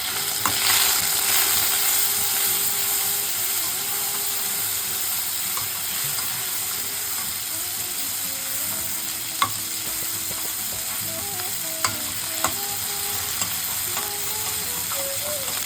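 Ginger, garlic, chilli and turmeric paste fries steadily in a pan, a continuous close sizzle with occasional faint clicks of stirring, no voices.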